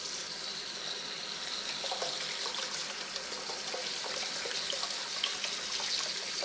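Cold water runs steadily into a bowl, a continuous hissing splash with small bubbling ticks scattered through it, moderately close and without speech.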